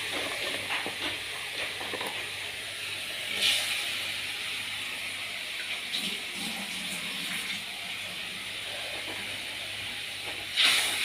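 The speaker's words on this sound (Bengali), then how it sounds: "দেখো ফুটে গেছে এর মধ্যে মাছগুলো ছেড়ে দিচ্ছি" Pomfret fish added to a pot of boiling spicy gravy: a continuous soft bubbling hiss with a few brief louder spurts, fairly close and without talk.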